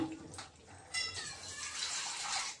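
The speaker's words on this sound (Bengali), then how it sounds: "আর একটু জল দেবো" Water poured into a cooking pot of simmering pumpkin and taro, a splashing, gurgling stream close by that swells after a moment and continues steadily before trailing off.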